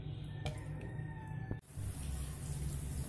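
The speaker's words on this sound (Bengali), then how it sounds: "এই যে জল আছে, এটা এইভাবে চেপে চেপে যতটা সম্ভব জলটা আমি কচু শাক থেকে বার করে নেব" Water squeezed by hand from boiled taro leaves in a basket runs in a steady close trickle, with a couple of soft knocks and a brief pause midway before the flow resumes.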